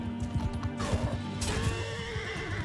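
A horse in Mount & Blade 2: Bannerlord neighs loudly over a steady clip-clop of hooves and battle clatter, with a second whinny following about halfway through.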